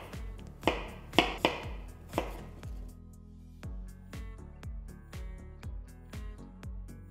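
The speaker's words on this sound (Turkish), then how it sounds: "Böyle ufak küpler halinde doğruyoruz." A knife cutting apples into small cubes, with a few sharp chopping knocks in quick succession early on, then quieter taps under background music.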